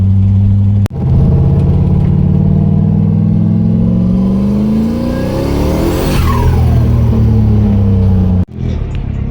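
A turbocharged LS-swapped Mazda Miata engine runs steadily and loudly up close, its pitch rising and falling as the car accelerates and shifts, with a brief cut near the start and end.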